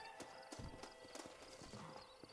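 Horse hooves in the video game Red Dead Redemption, a steady clip-clop of a trotting horse, close and rhythmic over a faint background hum.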